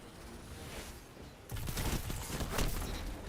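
Rapid gunfire in the shooter Destiny 2 during an Iron Banner match, a dense crackling fusillade that grows noticeably louder and heavier halfway through.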